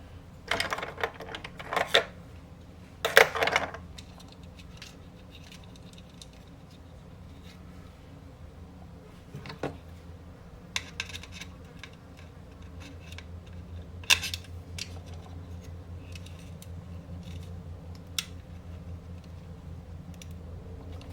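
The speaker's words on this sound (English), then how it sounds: "Flip it back over and put a panel nut here." Small metal clicks and tinny scrapes come from fitting and tightening a panel nut on a jack of a Moon Phase VCF eurorack module. The sharp close taps come in short clusters over a quiet background hum.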